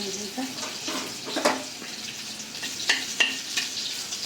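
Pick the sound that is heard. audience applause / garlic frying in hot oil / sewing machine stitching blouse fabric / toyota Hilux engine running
garlic frying in hot oil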